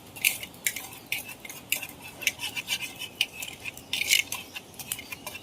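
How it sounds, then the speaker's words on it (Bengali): Kharkol leaf paste being mixed with turmeric and poppy seeds in a bowl, giving a run of light, irregular scraping and clinking taps from a utensil, close and fairly quiet, with no talking. "এটাকে আমি ভালো করে মিশিয়ে নেব।"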